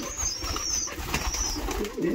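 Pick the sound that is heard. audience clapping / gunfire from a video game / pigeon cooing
pigeon cooing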